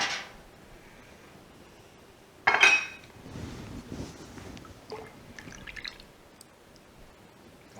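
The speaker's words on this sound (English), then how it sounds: "let's give the curds a stir here before we start adding the water" Cheese curds for Gouda are stirred in a pot, giving soft scrapes, light clinks and watery sloshing, with one louder clatter partway through and no talking.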